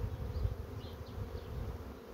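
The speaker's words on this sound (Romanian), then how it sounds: "foarte multă albină care nu are unde să lucreze" Honeybees buzzing in an opened hive crowded with bees, a dense steady hum with no talk, close and fairly loud throughout.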